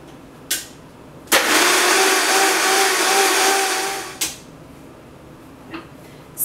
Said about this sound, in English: We're using a Vitamix here, so this blender is really a powerhouse.